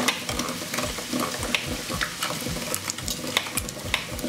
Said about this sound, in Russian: у нас продолжает жариться наш лучок